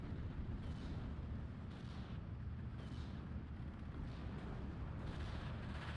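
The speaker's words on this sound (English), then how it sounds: "Mortar firing, yeah, at nothing." Mortar fire in a WW2 real-time strategy game, a continuous low rumbling battlefield din with several muffled booms rising and fading under it, no talk heard.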